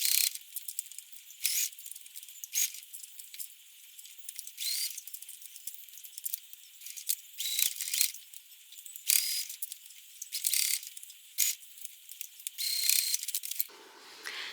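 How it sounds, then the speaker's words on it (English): A sewing machine stitches around the edge of a small fabric cell phone crossbody bag, running in short, repeated clattering bursts with brief pauses between them. "Then I'll just sew around the edge."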